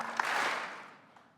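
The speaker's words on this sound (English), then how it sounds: "one single clap with a loud, crisp finish" A roomful of conference attendees at a retail industry event claps together on a count of three, producing one broad burst of applause that swells quickly and then trails off into a ragged, decaying patter, with no talking.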